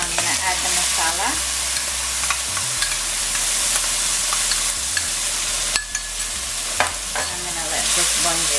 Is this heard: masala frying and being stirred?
yes